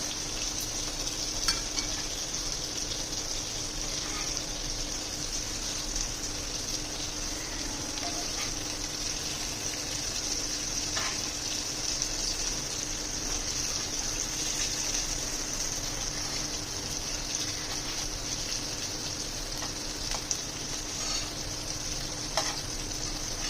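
Fish fries in a pan with a steady, continuous sizzle and occasional faint clicks as the pieces are turned over, with no talking.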